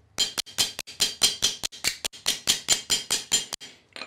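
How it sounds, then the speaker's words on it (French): A steady series of about fourteen sharp metallic taps from a panel-beating hammer shaping car body sheet metal, evenly spaced and close, with no talking. "c'est un marteau à garnir, ça coûte pas bien cher, ça te permet de faire tes tôles"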